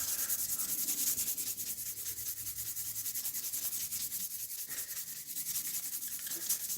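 A knife blade is worked by hand with 600 grit abrasive, giving a continuous rhythmic scratchy rubbing of strokes, close and steady with no talk.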